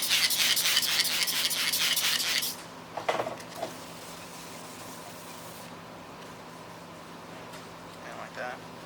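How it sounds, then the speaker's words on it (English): Rhythmic rasping strokes of 2500 grit sandpaper rubbing car paint for a couple of seconds, then a few soft taps and near quiet. "we're switching back to the 2500 grit for our final sanding step"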